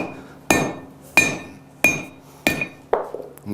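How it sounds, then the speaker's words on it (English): A hammer strikes a hot cutter to cut hot steel on an anvil, five sharp metallic blows at an even pace, each ringing briefly, loud and close. "this is a hot cutter. I'll cut it off on the anvil"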